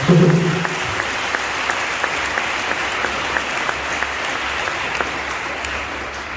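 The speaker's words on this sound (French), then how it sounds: "On va les acclamer une deuxième fois." A congregation at Sunday mass in the Sainte Anne parish church, Port-Bouët, breaks into sustained applause, steady and dense across the whole stretch after a brief voice at the start.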